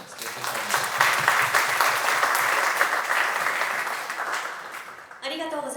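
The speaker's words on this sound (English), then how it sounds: "please give a big applause to the audience" Audience applause fills a conference hall at the close of an India session at IVS2025, a dense steady roar of many hands that fades near the end before a voice begins speaking.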